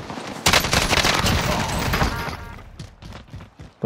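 Video-game gunfire crackles in a dense, loud burst of rapid shots for about two seconds, then thins to scattered fading reports.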